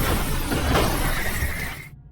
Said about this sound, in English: in a panic, she crashes her car.